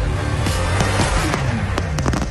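New Year's Eve fireworks and firecrackers go off in a rapid, irregular series of sharp bangs and crackles over a low rumble, fairly close and loud, with no talk.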